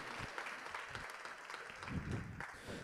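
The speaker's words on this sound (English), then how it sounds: "Let's give Zonley a big round of applause as he takes off from the stage." At a gala dinner, the audience gives a fairly faint, steady round of applause as a speaker leaves the stage, with a few louder claps and low crowd murmur beneath.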